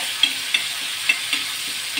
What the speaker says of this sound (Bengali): এই যে তেলটা দিয়েছি না, এই লঙ্কাটা দিয়েছি, একটু ভাজা ভাজা হলে আমাকে এতে দিতে হবে সোয়া সস